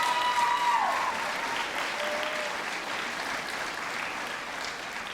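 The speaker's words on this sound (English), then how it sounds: "Let's give them all one more round of applause." Audience applause fills a school spring band concert hall after the small ensembles perform, a steady dense clapping from a large crowd that holds loud and even throughout.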